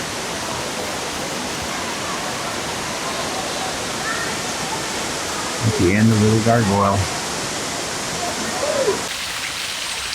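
Water rushing continuously down a water course in a terraced villa water garden near Rome, a steady broadband wash throughout; someone briefly speaks over it midway, and the flow eases slightly near the end.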